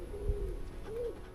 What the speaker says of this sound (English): Just birds, mate, just birds.